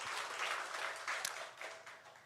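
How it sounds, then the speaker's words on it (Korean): A church congregation claps together during a Korean Sunday worship service. The applause is faint and distant, a short stretch of scattered clapping. "우리 하나님께 영광의 박수 올려드리겠습니다."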